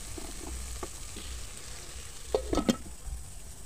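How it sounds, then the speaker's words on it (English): Omena fish frying together in a pan: a faint, steady sizzle with a brief cluster of utensil clinks and scrapes from stirring partway through. "and now they're gonna fry together"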